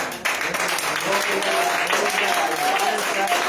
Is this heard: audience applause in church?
yes